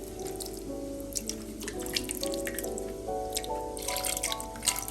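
Tamarind water is poured into a cashew theeyal curry with gentle splashing and dripping, a quiet liquid trickle with small irregular drops close by.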